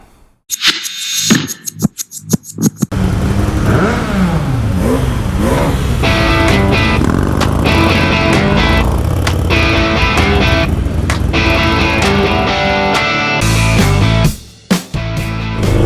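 Motorcycles on a group ride on a very hot day rev and accelerate loudly and close by, a continuous engine roar that holds for most of the stretch after a few sharp knocks at the start, then briefly dips near the end.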